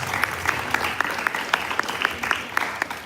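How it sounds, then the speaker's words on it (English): Applause from a student audience at a sixth form leadership summit, a full, continuous round of clapping with a few sharper nearby claps popping out at a quick, uneven pace. "May I have a huge round of applause to Miss Sapna"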